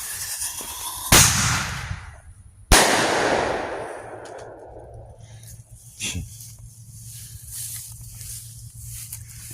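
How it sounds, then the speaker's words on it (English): Fireworks set off outdoors at night on a camping trip, two sharp loud bangs about a second and a half apart, each followed by a long crackling, fizzing tail, then a fainter pop and distant crackles. "when you're the one lighting off the fireworks, they sound 10 times louder than what they really are"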